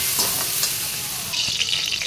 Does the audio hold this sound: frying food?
yes